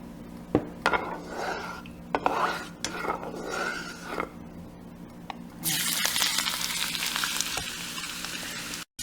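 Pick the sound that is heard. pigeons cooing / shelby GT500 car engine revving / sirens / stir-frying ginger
stir-frying ginger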